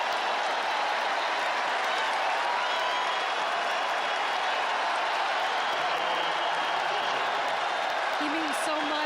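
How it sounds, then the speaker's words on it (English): A big stadium crowd applauds and roars at a Tennessee vs Arkansas college football game at Neyland Stadium, a continuous distant wash of clapping and crowd noise with faint voices running underneath. "You hear the applause."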